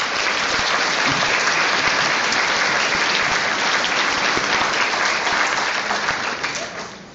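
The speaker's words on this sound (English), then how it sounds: "Please give these nominees a round of applause" An audience at a chamber of commerce awards banquet claps for the nominees, a full, even burst of applause that holds steady before tapering off at the end.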